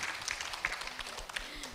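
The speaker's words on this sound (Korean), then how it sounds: "박수 한번 큰 박수 같이" Faint, scattered handclaps rise from an audience at a picture-book activists' experience-sharing gathering, a soft patter of applause heard from a distance with a few murmuring voices.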